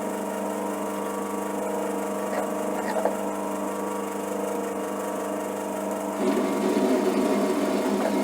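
A lathe parts off 14 mm 100C6 bearing steel bar using Sandvik inserts, a steady close machine hum with faint scraping cutting noise that grows slightly louder and rougher near the end.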